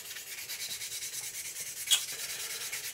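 Rhythmic, scratchy back-and-forth strokes of fine-grit micro mesh sanding a surface to polish, steady and close, with one sharper scrape midway.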